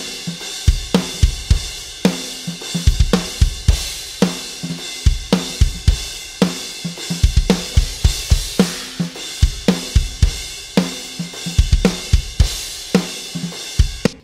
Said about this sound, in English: So the bigger cymbal was the 20-inch Pure Alloy and the smaller one was the Bissons.